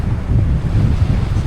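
Steady strong wind, around 20 knots, buffeting the microphone on the windward side of Ha'afeva Island in Tonga near an old ferry wharf, a loud low rumble with surf-like roar and no voices.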